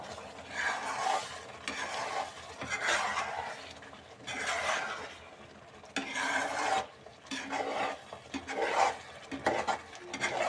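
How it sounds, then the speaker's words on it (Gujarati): A spoon stirs boiled egg curry gravy in a pan in bursts of scraping, sizzling strokes, separated by brief pauses, close and moderately loud with no talking. "પણ આપણે હલાવતા રહીશું એટલે થઈ જશે રેડી"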